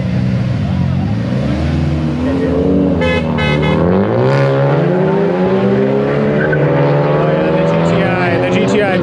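Volkswagen Mk7 GTI engine pulling hard under load, a loud rising exhaust tone that climbs steadily in pitch through the rev range, with brief talk over it partway through.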